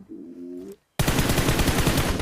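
Video game gunfire breaks out suddenly as a loud, continuous stream of rapid automatic shots. A short tonal sound comes just before it, then a brief silence.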